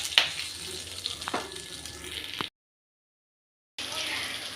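Bitter gourd, curry leaves and garlic frying in a pan on medium flame make a steady, close sizzling hiss with a few pops. It cuts to silence briefly, then the hiss returns.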